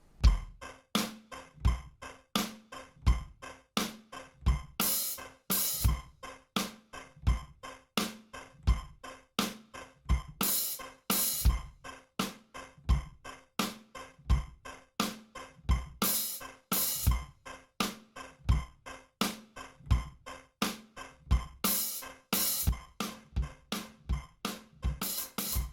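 A steady drum beat of snare hits with a hi-hat added for punch, in a Blinding Lights groove, repeats in a tight, regular rhythm with sharp, bright accents, played alone without voices.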